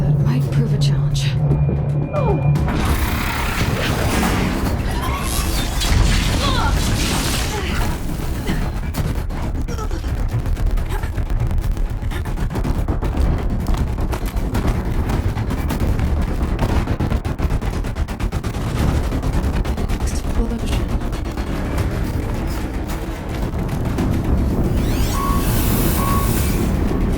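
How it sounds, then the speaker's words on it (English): Explosions and heavy combat noise in the video game Horizon Zero Dawn, loud booming bursts with rumbling debris and crackling gunfire-like effects that carry on densely and unbroken for the whole stretch. "Another explosion."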